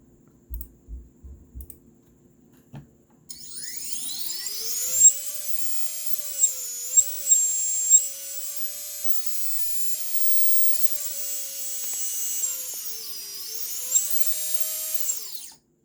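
A Mr Steele Silk V.3 drone motor on a test stand arms with a few clicks, then spins up into a loud, steady high-pitched whine whose pitch wavers slightly as the throttle changes, with no talking.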